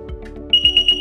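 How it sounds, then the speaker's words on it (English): A pivot irrigation control panel sounds its alarm horn, a loud, high steady beep pulsing about five times in a quick regular rhythm. A low hum and faint clicks sit underneath it. "it would go into an alarm with the horn"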